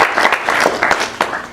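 A brief burst of audience applause at an employer panel discussion, with clapping arriving in uneven waves and flurries, fairly loud and close.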